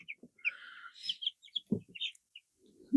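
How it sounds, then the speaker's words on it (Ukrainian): Several short clucks and chirpy calls from chickens and roosters, scattered and close, with a low rooster call near the end. "Бабця насчитала 8 півнів і 9 курочок."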